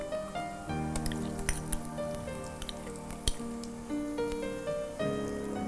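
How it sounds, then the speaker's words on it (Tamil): Onions sautéing with ginger and garlic in a pan give a steady close sizzle, with occasional clinks and scrapes of a spoon stirring against the metal and a faint tonal hum underneath. "வெங்காயத்தை மட்டும் நல்லா வதக்கிடணும்"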